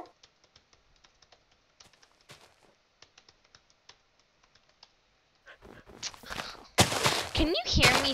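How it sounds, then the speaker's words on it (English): Typing on a computer keyboard during PC Minecraft play, a quick run of soft, fairly close key clicks at an uneven pace, followed by a louder burst of sound near the end. "I wonder if you can hear me typing right now"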